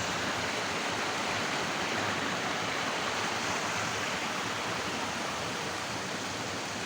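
Spring water flows continuously down a river where a pyrite-bearing spring emerges, making an unbroken, even rushing wash that stays steady and fairly loud throughout.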